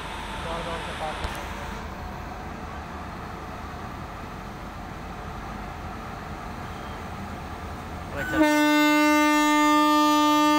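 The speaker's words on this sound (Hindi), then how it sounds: "अब एक हॉर्न और लगेगा फिर निकालेगा" A loud, sustained train horn blares near the end, following a long stretch of rumbling railway noise from a passing freight train at Bijwasan railway station.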